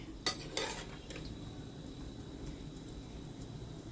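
Anarsa goliyan being stirred and turned in hot frying oil: a couple of sharp utensil knocks against the pan near the start, then a soft, steady sizzle carrying on quietly.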